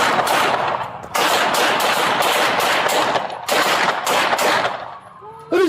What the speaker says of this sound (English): Wait, shots fired, shots fired.